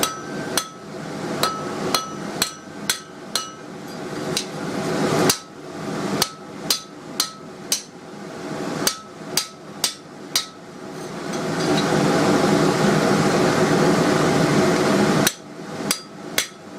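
A hammer strikes a cold steel rod being set as a rivet, a long series of sharp, ringing metallic blows in uneven bursts, loud and close, with a steady rushing background hiss building midway.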